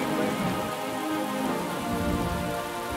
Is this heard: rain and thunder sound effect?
yes